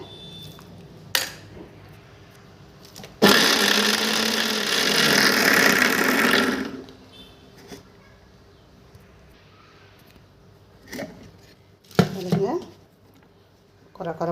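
A kitchen mixer grinder whirs loudly for about three seconds as it grinds mango pickle spices with salt, then stops, followed by clinking and a person speaking.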